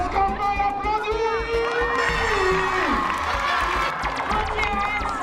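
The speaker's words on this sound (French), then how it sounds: "Est-ce qu'on peut l'applaudir?" A lively crowd cheering and shouting, with children's voices among them, at a community event, loud and close, with drawn-out sung or shouted tones and busy chatter running under the noise.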